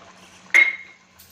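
Hot milk poured into mango sheera cooking in ghee makes one short, sharp splash and hiss, then quickly fades to quiet.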